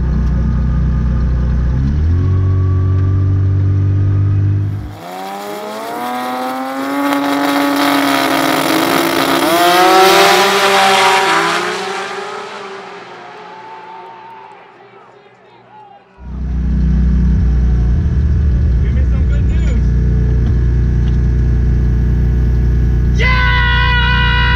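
A 1900-horsepower Toyota Supra race car with a 2JZ engine roars loudly, then its revs climb in a long rising sweep, ease off and drop away before the heavy engine drone returns close by.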